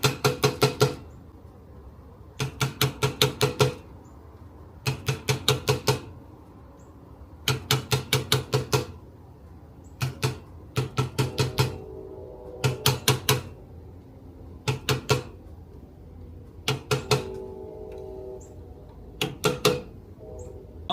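A 1968 Chevelle starter clicks rapidly in repeated bursts, each a tight cluster of sharp mechanical clicks, about eight bursts spaced roughly two to three seconds apart over a quiet background.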